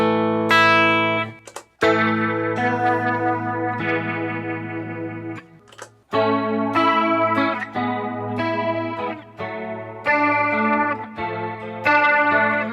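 An electric guitar runs through a modulation pedal on a guitarist's pedalboard, ringing out sustained chords and notes with a shimmering chorus-like wobble. Two brief pauses break the playing, and no one speaks.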